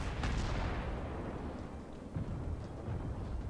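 Tank cannon shells fire in a video game as a dense, booming roar, with a heavy blast at the start that rolls on into continuous rumbling and further low impacts.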